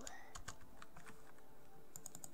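One-handed typing on a computer keyboard, a slow, uneven run of distinct key taps close by, with a quicker cluster of clicks toward the end and faint background hum.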